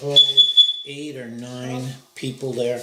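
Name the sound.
fire alarm going off in church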